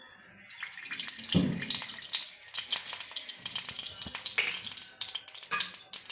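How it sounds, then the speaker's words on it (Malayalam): Oil pours into a pan on the stove with a short low splash, then a continuous crackling, hissing sizzle carries on close by without any voices. "അടപ്പത്ത് വെച്ചു ഒരു എണ്ണ ഒഴിക്കുകയാണ്"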